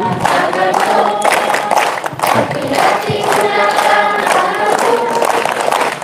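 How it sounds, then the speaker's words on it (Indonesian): A church congregation sings together while hands clap steadily along, a full, busy crowd sound filling the space. "Kita nyanyi sambil tepuk tangan. Orang tua bantu tepuk tangan."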